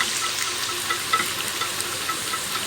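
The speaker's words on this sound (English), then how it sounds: "And to our roux pan, we're going to add milk. We're going to give that a good whisk" Milk is whisked into a roux in a pan, giving a steady, close hiss with faint scraping and stirring texture throughout, and no talking.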